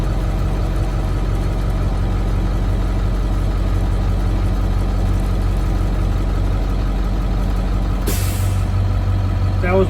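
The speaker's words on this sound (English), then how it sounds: "That was my governor shut off." Air brake governor on a Class B passenger bus cutting out, a sudden hiss of air bursting in near the end over the steady drone of the idling engine.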